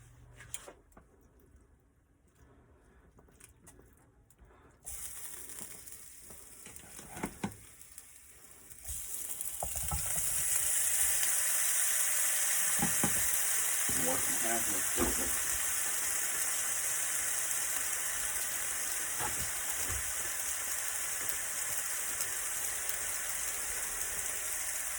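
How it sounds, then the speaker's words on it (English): Turkey patties and mini wontons sautéing in sunflower oil, starting as quiet handling and stirring, then breaking into a loud, steady sizzle and crackle that holds to the end, with no talking. "So we gonna saute it, give it a nice little seasoning with this sunflower oil."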